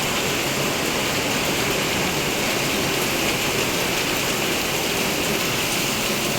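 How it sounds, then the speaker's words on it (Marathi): Heavy monsoon rain pours down in Mumbai, a dense, steady roar of water that stays loud and unbroken throughout with no voices over it. "पावसामुळे माझा आवाज पण नसेल तुम्हाला एवढा पाऊस येतो"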